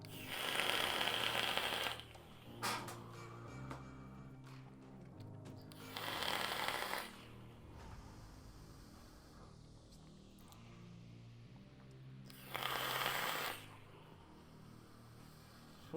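Eternal RDA on a vape mod at 188 watts with airflow wide open: three long hissing, crackling draws lasting about two seconds each, spaced several seconds apart, with quieter mechanical clicks between them.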